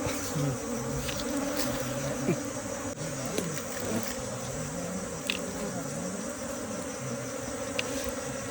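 Bees buzz around an underground nest as honey is dug out of the soil, a close, steady droning hum with a few faint knocks and clicks scattered throughout.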